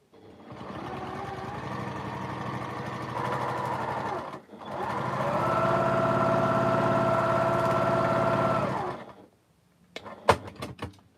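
A sewing machine runs steadily along a seam at a short 1.8 stitch length, with a brief pause midway and then a longer continuous run, followed by a few close clicks and clatters as it stops.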